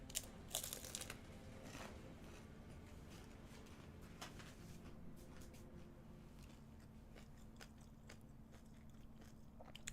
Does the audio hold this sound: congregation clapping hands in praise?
no